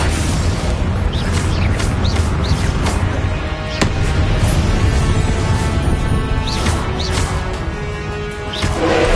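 A Confringo spell explosion in the game Hogwarts Legacy, with booming blasts and bursts layered over dense, continuous combat noise, including a few sharp whooshing strikes scattered across the stretch.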